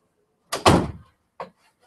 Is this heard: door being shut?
yes